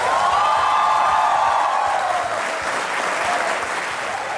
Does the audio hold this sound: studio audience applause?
yes